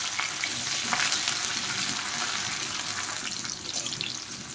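Chopped onions sizzle steadily in hot oil for a duck egg curry, a close, continuous crackling fry with light stirring and no voices.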